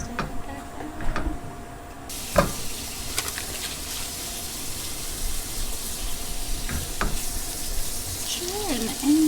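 Food drops into a hot pan on a stove and bursts into a loud, steady sizzle with occasional stirring clatter, with scattered voices in the background.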